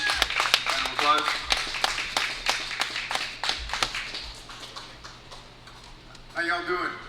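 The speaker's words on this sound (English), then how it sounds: "You're gonna give us a speech, round of applause." A crowd claps steadily for several seconds at a pay-per-view cage fighting event, the sharp claps fading gradually, with a burst of cheering or talk near the end.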